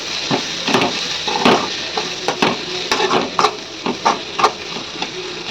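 Cabbage stir-frying in a pan on a home stove, with repeated clinks and scrapes of a spatula against the metal over a low sizzle, close and moderately loud.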